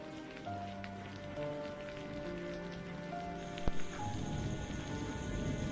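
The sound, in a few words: heavy rain pouring at midnight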